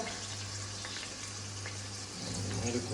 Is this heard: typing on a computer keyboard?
no